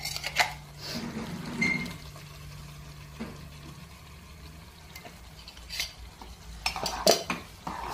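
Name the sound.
stirring tomato paste into masala in pan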